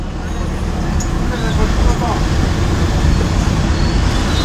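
Steady road traffic rumble from inside a bus in heavy traffic near Kolluru, a dense low roar that continues throughout with a busy, crowded ambience and voices around.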